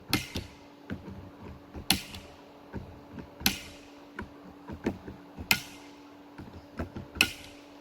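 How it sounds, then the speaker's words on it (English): Screws on a Zero Gravity Summit scope mount being torqued down, giving a string of sharp, close metallic clicks in irregular bursts over quiet room tone. "I'm going to start off by torquing every screw twice to remove any potential slack."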